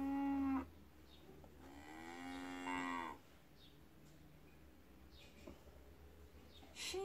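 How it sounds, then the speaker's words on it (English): A cow mooing, with two long, drawn-out lowing calls, the second fuller and lasting over a second, heard clearly with quiet pauses between. "A cow."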